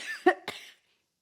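One person's chronic cough, two short harsh coughs in quick succession, close and fairly soft, then silence.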